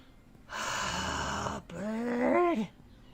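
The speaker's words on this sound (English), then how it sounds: "Bird wants to take over the stream." A pet bird squawks loudly and close by during a casual home livestream hangout: two harsh, drawn-out calls, the second one wavering in pitch and rising before it cuts off.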